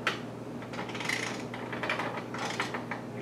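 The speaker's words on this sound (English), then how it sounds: "you use a 15/16 wrench, and you put it on here, and you just" A 15/16 wrench loosens the fittings on a new dishwasher installation, producing a series of close metallic clicks and scraping bursts in an uneven rhythm.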